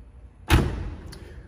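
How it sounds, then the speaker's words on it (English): A door on a 2006 Spyker C8 Spyder is shut with a single close, solid thud, followed by a faint short rattle after a quiet moment. "maybe I will shut the doors so they don't hit that"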